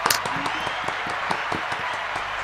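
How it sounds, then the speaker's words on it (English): An audience at a live magic stream breaks into steady applause, a dense wash of many hands clapping at moderate distance, sustained and even throughout. "So a round of applause for that."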